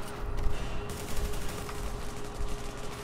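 Rapid automatic rifle fire from an AUG in the shooter game The Division, a dense sustained burst of shots layered over steady low combat noise.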